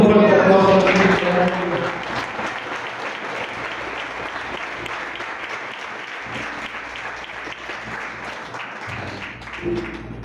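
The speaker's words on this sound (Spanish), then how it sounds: "Den un fuerte aplauso a Cristo." A church congregation applauds loudly, a full wash of clapping that starts over a spoken voice, then settles into steady sustained applause and swells slightly near the end.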